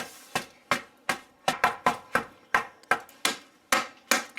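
Sharp metal-on-metal strikes of a hammer on a chisel chipping into a toy gem-digging volcano kit, about a dozen evenly paced blows, close and loud with no talk.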